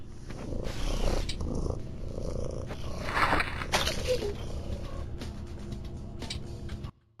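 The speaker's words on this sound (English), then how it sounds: "There was like some loud, evil purring." Loud, menacing purring from a creature in the horror game Voices of the Void, a steady rumbling drone running nearly the whole way before cutting off abruptly at the end.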